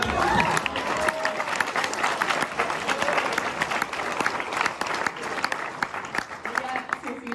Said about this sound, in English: But round of applause for me for coming up with such great gifts.